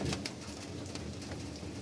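Caged pigeons coo softly beneath a steady hiss of falling rain, the calls faint and blended into the wet background.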